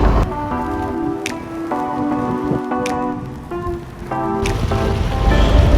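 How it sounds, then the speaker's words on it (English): Heavy rain falls steadily in Bradford as traffic slows, a continuous dense hiss of drops that holds through the whole stretch, with a few steady tonal hums running underneath. "look at the rain. Very heavy rain here."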